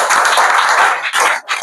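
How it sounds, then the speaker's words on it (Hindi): Dense, loud applause from a seminar audience, many hands clapping together in a steady wash that dips briefly twice near the end before surging back. "जोरदार ताली दे।"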